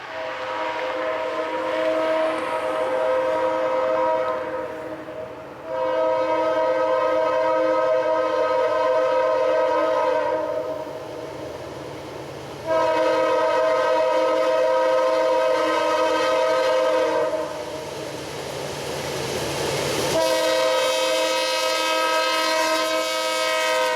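A BNSF diesel freight train led by a GE C44-9W locomotive rumbles steadily past, its loud multi-tone horn blaring in several long blasts over the grinding roll of wheels.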